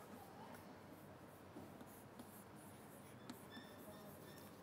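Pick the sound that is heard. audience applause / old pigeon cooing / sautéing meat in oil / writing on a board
writing on a board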